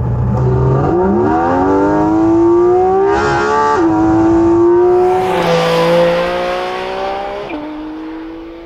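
A Porsche Cayman GT4 RS with its mid-mounted engine revs hard, the loud, close engine note climbing steadily through several gear changes with a sharp drop and a rising, raspy intake wail before easing off.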